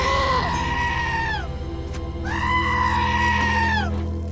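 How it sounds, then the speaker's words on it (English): Goats in a Fallout-style video game let out two long, loud, wavering bleats close by, each dropping in pitch at the end, with a brief pause between them over a steady low hum. "Those goats are cute though."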